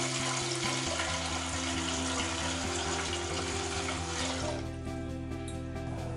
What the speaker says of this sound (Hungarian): Forró vízben feloldom, elkeverem a mosószert